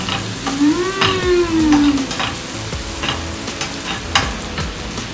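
Garlic sizzles in a hot pan with a little water just added, with steady frying crackle and scraping stir strokes throughout, while a brief tonal squeak rises and falls early on; no one speaks.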